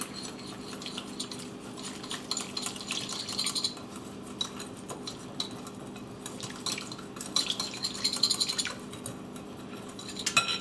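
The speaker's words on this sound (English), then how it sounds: "Give that a nice little whisk" Cornstarch marinade for beef stir fry whisked in a bowl, a steady scraping and light clinking of a utensil against the bowl going on throughout, fairly quiet and close, with no talking.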